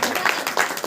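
A church congregation claps hands in praise during a Hindi worship meeting, a quick run of about five sharp claps at a fairly steady rhythm under a voice.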